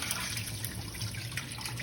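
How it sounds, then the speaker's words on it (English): Cooking water pours from a pot as noodles for pad thai are drained, a faint continuous splashing and trickling stream with no talk. "So we're draining the noodles. just pour the water out."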